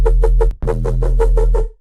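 A deep minimal drum-and-bass bass patch from the Vital synth with chorus and distortion sounds eight rhythmic, buzzy stabs over a sustained low drone, with a brief break near the middle, loud and alone.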